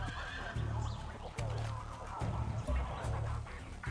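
A horse in the video game Far Cry 6 neighs and snorts in repeated bursts, with low thumping game sounds between them.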